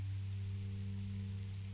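Rain in the video game Minecraft Story Mode: a soft, even hiss of falling rain over a steady low hum, quiet and unbroken, with no voices.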